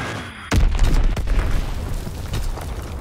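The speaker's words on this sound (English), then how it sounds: "Enemy bomb incoming." A bomb explosion in the World War II shooter Call of Duty: WWII hits with a sudden loud boom, then a long rumbling roar that stays heavy through the rest of the moment.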